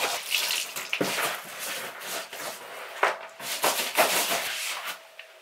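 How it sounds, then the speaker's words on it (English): Hedgehog cage and mat being scrubbed clean with a scrub brush, a wet, rushing scrubbing and splashing sound in uneven bursts, close and fairly loud with short pauses, no talking. "Then I just take this scrub and I'll scrub out everything."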